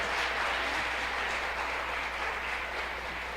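A church seminar congregation applauds, a soft, distant wash of steady clapping under a low hum, with no clear talk over it.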